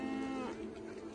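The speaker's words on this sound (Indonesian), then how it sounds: "Betapa mengeluhnya hewan dan gempar kawanan-kawanan lembu" A herd of cattle lowing together in a long, strained moo that bends downward, close and fairly loud, with no other sounds alongside.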